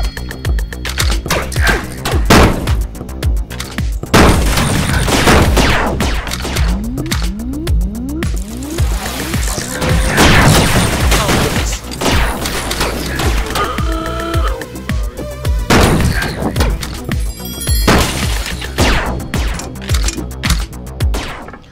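Shotgun blasts in the VR game Rec Room boom out as a series of loud, sharp bursts, tangled with clattering impacts and other game effects for the whole stretch.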